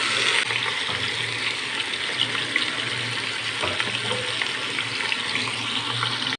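Marinated chicken pieces sizzling steadily in a hot pan, a continuous close frying hiss with occasional crackles and light movement of food, no talking.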